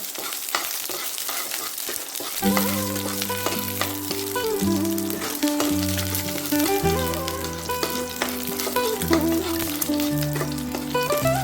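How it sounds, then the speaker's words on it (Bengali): Dried red chillies and panch phoron frying in hot oil while being stirred for dal shukto: a steady sizzle that carries on without a break, with tonal background music over it. "শুকনো লঙ্কার পাঁচ ফোড়ন দিয়ে খুব ভালো করে নাড়াচাড়া করে নেব"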